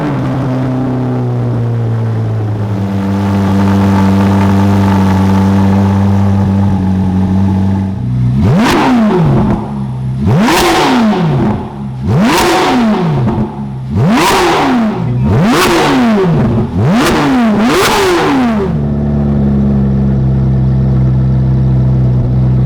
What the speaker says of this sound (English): we're gonna give you a cold start in the shop and let you hear the tone of the new Label exhaust